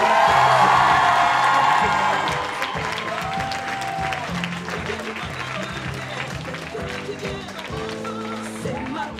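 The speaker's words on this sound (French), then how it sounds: "Applaudissez-les bien fort" Audience at an eco fashion show bursts into loud applause and cheering that fades after a couple of seconds, giving way to music and a voice under lingering claps.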